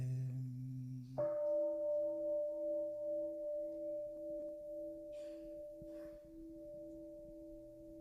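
A single bell is struck at a Plum Village solstice ceremony and its clear tone rings on and slowly fades over several seconds, quiet and unaccompanied by speech.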